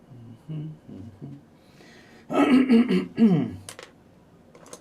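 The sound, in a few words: coughing and throat clearing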